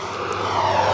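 Tractor engine labouring under load while pulling a plough through a field, a loud, steady low drone that swells slightly as the strain builds, with no voices over it.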